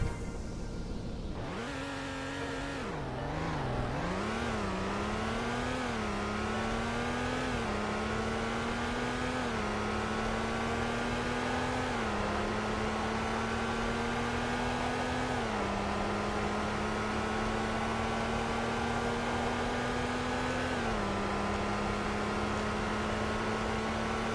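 A slow car in the Roblox game Greenville accelerates from a standstill, its engine tone rising steadily with gear-change dips and no talk over a sustained, moderately loud drone.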